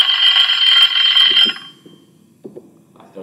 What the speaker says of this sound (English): Class Dojo alarm clock.